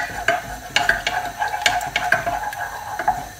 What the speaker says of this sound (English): So that's why I've got to keep stirring it.